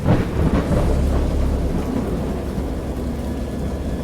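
Thunder rumbles deep and loud through steady heavy rain in a storm in the game Dagon, the downpour hissing continuously after an early rolling crack.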